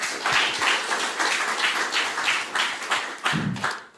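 An audience claps warmly for a member of parliament being introduced on a Dutch talk show, a moderate round of applause with distinct individual claps and a few thumps near the end.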